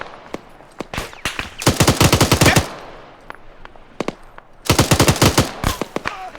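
Automatic gunfire in the military shooter game Arma 3: two long, loud rapid bursts, each preceded by scattered single shots, with sporadic reports in between and no talk.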